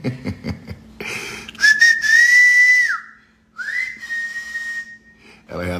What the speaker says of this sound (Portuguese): Eu tô acostumando ela com esse assobio